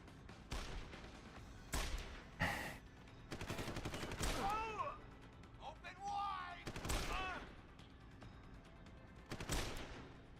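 Gunfire in Deus Ex Human Revolution, several sharp shots in separate bursts spread over the stretch, with mechanical clatter and other game effects between them, quiet overall and mixed with some speech.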